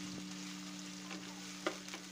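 Cashews dropped into hot oil in a pan with onion for Mughlai chicken changezi, giving a steady close sizzle and frying hiss with a few soft stirring clinks, no talk.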